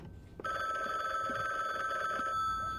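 A telephone in the video game A Drop of Infinity rings with a bright, sustained electronic trill that starts abruptly and holds steady, loud and clear, with no talking over it.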